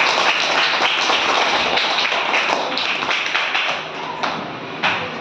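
A group claps in a steady, rapid patter of hand claps after recited Telugu verse, close and continuous for several seconds, with no talking over it.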